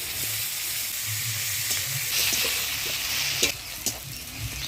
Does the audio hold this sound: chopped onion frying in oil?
yes